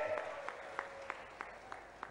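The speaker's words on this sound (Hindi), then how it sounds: "जोरदार ताली बजाओ अपने आप के लिए।" A crowd at a farmers' rally in Balaghat claps in a steady, rhythmic beat of evenly spaced strokes, heard somewhat distant and moderately faint.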